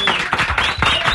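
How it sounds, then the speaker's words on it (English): Hand clapping applause played in a morning radio show studio, a short burst of sharp, close claps in quick uneven succession with a thin tonal element running over them. "that hand clap sound like what I hear when I'm at my shows"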